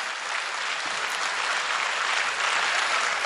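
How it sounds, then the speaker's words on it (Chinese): Audience applause at a Christmas charity gala, dense even clapping from a large crowd held at a steady level for a few seconds. "掌声欢迎了"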